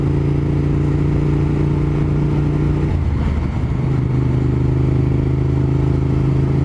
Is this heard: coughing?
no